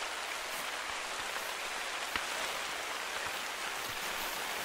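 Rain falls in the hunting video game The Hunter: Call of the Wild, a steady wash of hissing downpour with scattered drop ticks at an even, moderate level and no talking.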